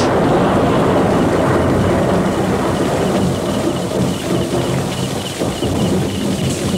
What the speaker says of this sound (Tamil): மானமே பொத்தலான மாதிரி இப்படி மழை கொட்டு கொட்டுன்னு நீ கொட்டுறது.